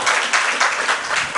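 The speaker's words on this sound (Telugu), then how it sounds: "చప్పట్లు కొట్టి దేవుని స్తుతి." A church congregation claps together in praise during a sermon, a steady, dense patter of many hands with a few swelling surges, loud and continuous through the short stretch.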